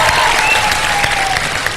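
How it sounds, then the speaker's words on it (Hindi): A studio audience at a TV quiz show applauds the contestants, giving a loud, dense, continuous wash of clapping throughout. "हमारे तीनों कंटेस्टेंट्स के लिए बहुत सारी तालियां"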